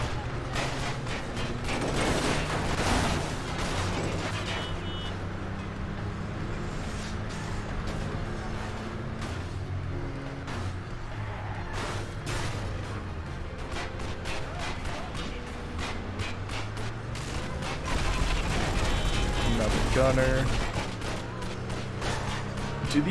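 Gunners open fire in the video game Wheelman, with rapid bursts of gunshots and mechanical clatter layered over steady engine rumble and game music, and a voice talks at times throughout.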